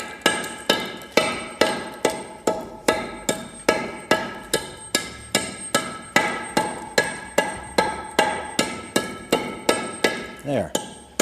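A hammer breaks down a soft concrete building block about half an inch deep to seat two pieces of half-inch steel, with steady repeated sharp blows about every half second, close and loud.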